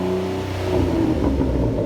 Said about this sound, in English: Go ahead and give the gas.